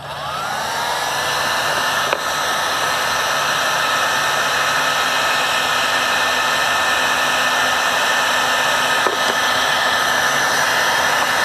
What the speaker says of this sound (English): Let me unpack the heat gun, because I know where it is.